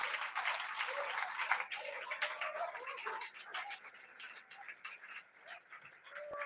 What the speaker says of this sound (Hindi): जोरदार ताली बजाकर धन्यवाद।